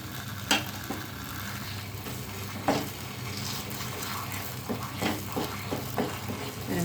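Roasted cashews stirred into jackfruit halwa in a nonstick pan, giving a soft steady sizzle broken by a few scraping strokes of the spoon, close and fairly quiet with no voices.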